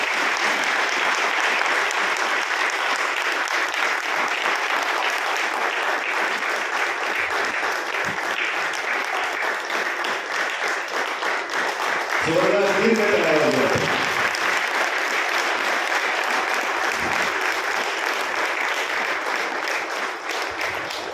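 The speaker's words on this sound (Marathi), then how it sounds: "जोरदार टाळ्या वाजवूया, जोरदार" Steady applause from the audience at a Dhamma camp welcome ceremony in Warkawadi continues throughout at a moderate level, with a brief burst of voices partway through.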